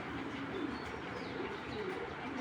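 Breeder racing pigeons coo in a few low, rolling phrases, fairly close, over a constant dense background hum.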